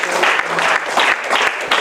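A church congregation claps together after a closing prayer. The short burst of hand claps is loud and close, with a loosely pulsing rhythm.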